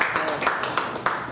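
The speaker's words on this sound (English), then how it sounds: "Give her a round of applause." Light, sparse clapping from a small forum audience greeting a panelist for a university regent district seat, a few separate hand claps spaced unevenly over a second, soft and close.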